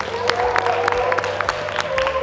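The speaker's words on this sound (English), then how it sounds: "Can you please give yourselves one big massive round of applause?" Audience at a martial arts academy session applauding, a steady wash of clapping and crowd noise throughout, with faint cheering mixed in.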